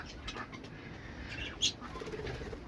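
Budgerigars chirp faintly in the background, with one brief, sharper chirp standing out near the middle.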